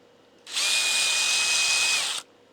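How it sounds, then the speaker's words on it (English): A power drill bores out slightly undersized holes while assembling a solar-powered Meshtastic node, a single steady high-pitched whine lasting under two seconds, close and loud, starting and stopping abruptly with no talk. "so we drilled those out"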